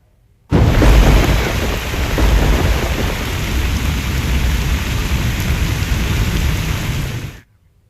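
Heavy rain pours with rolling thunder, a loud, dense roar that starts abruptly, holds steady for several seconds and then cuts off.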